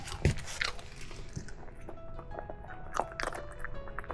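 A dog gnawing on a dog bone, with close, irregular wet crunching and biting bursts, loudest at the start, over soft background noise and no clear talk.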